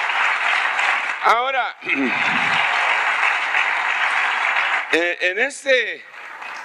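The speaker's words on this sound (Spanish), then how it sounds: "Muy bien, denle un aplauso al Rey." A church congregation applauds in a broad, steady wash of clapping that fills most of the stretch, while a voice speaks over it in brief bursts at the start and again near the end.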